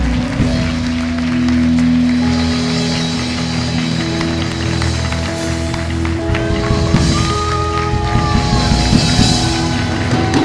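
A church congregation at a missionary conference applauding, broad clapping that swells under sustained music and held organ-like tones, loud and continuous with no clear speech.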